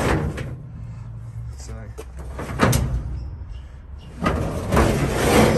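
A toolbox drawer slides out from the tray of a 2018 Nissan Navara 4x2 ute, giving a rolling scrape and a clunk close by, while someone talks.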